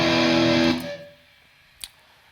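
A loud, sustained distorted electric guitar chord rings out and fades away, followed by a brief click.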